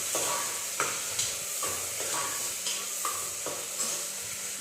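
Onions fry in a pan with a steady sizzle while a spoon scrapes and stirs at regular intervals, close and moderately quiet, with no talk.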